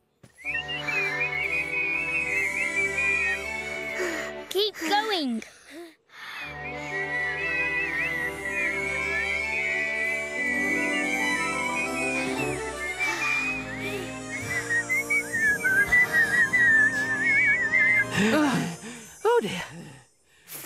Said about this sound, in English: Ready, steady, whistle!